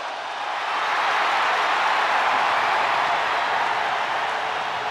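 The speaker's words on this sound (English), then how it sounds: "Listen to this ovation" A large arena crowd in a WWE 2K23 wrestling game roars in a sustained ovation for Bianca Belair, a dense, loud wash of cheering that swells in after a soft start and holds steady.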